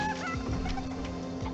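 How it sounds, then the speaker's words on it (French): A chicken clucks repeatedly in Fortnite Chapter 4 over a steady background hum, with soft, low, busy sounds around it. "Je suis avec ma poule."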